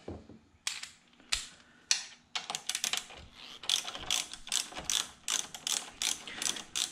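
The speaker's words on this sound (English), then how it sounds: "we have a 10 millimeter bolt here, which we're gonna go ahead and set ourselves up with our ratchet" A hand ratchet turns a 10 millimeter bolt during alternator work on a C4 Corvette, giving bursts of rapid close clicking that stop and start in short strokes, with no voices.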